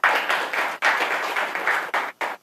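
Applause from an audience at a film song release event, a dense steady burst of clapping that swells and cuts off briefly twice before resuming, loud and close.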